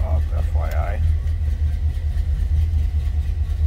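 A 1971 Chevrolet Monte Carlo V8 idles steadily with a deep, even low rumble close by, while a person speaks briefly over it at the start.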